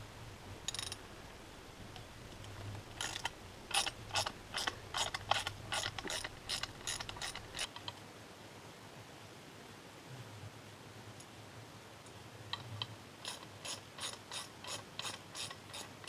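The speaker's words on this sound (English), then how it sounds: "So I'm just running this bolt in there to kind of clean it out a bit." A bolt is run in with a hand ratchet while fitting a hitch on a Ski-Doo Grand Touring snowmobile: two bursts of rapid, even clicking from nearby, separated by a pause with a low hum underneath and no talk.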